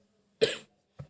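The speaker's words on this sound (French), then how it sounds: "Je suis en train de tousser." A single sharp cough, close and clear, followed by a short softer second cough in a quiet room.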